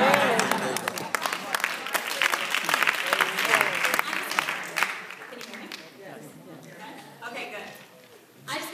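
Audience applause at a high school gospel choir spring concert, a dense, loud burst of clapping that fades toward the end, with voices mixed in.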